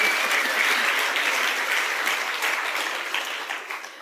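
Audience applause bursting out after a joke, a dense, loud wash of clapping that continues steadily and begins to thin toward the end.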